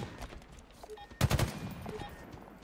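Video game gunfire crackles in one short, loud burst over a steady low background of game noise.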